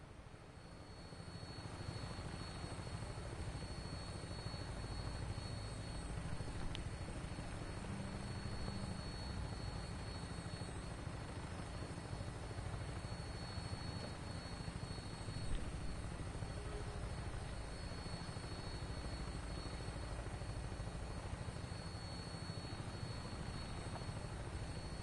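An aircraft engine in flight on final approach to an airport in Fallout 4 gives a steady, even droning hum with a faint whine, unchanging for about 25 seconds, with no voices.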